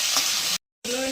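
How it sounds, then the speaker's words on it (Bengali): Peas and green chillies fry in a pan with a loud steady sizzle and stirring, cut by a brief silent gap before the sizzle resumes, with a faint voice in the background. "আর মটরশুঁটি আর কাঁচা লঙ্কা দিয়ে দিলাম। আর একটু ভেজে নেবো"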